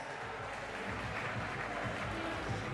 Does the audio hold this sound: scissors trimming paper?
no